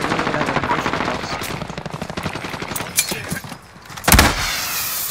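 Automatic gunfire in the video game Modern Warfare, a dense rapid rattle of shots that thins out, pauses, then returns as a single heavy blast followed by more firing, loud and close.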